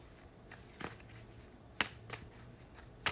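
Tarot cards are handled and drawn from a deck, making a few soft, close snaps and flicks spaced apart over quiet room tone.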